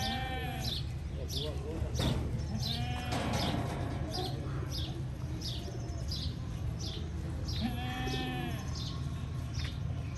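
Goats bleat repeatedly at a goat farm, several sharp calls spaced through the scene with birds chirping faintly and someone speaking over them.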